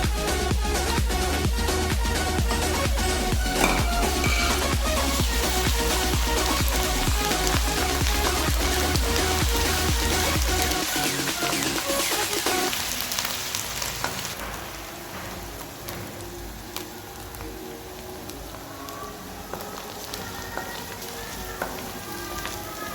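Steady, dense sizzling of ginger garlic paste frying in hot oil, loud and close, easing slightly partway through as the crackle thins out.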